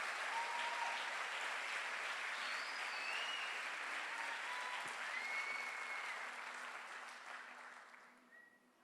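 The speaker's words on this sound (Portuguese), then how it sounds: "Dê uma grande salva de palmas" A church congregation claps together in a sustained, dense burst of applause, loud and steady at first, then thinning and fading away toward the end, with faint voices mixed in.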